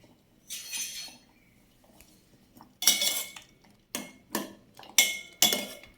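A spoon stirring cucumber curry (vellarikka morukootan) in a pot after salt is added: a quiet scrape, then a run of five or six sharp metallic clinks and scrapes, close up and without talking.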